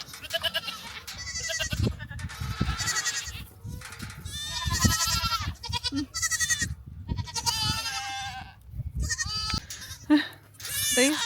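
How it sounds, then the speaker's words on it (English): Several goats bleat loudly and almost continuously as they head out to graze, overlapping calls of varying pitch close by, with a person talking among them. "These goats come out to graze every single day. You would think that they wouldn't be so vocal about it"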